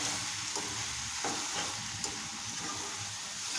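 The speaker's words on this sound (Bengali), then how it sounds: "নেড়ে চেড়ে দিচ্ছি।" Eggplant and egg fry in a pan as the mixture is stirred, giving a steady, close sizzle broken by occasional light scrapes and clicks of the spoon, with no voices.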